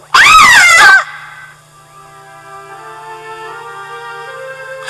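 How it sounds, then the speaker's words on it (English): A woman named Elizabeth, a new bride, lets out a loud, piercing scream lasting about a second, wavering in pitch, then a faint low hum and quiet sustained tones linger. "he heard a dreadful scream from Elizabeth"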